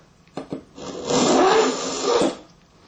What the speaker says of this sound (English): It's making quite a nice grinding noise.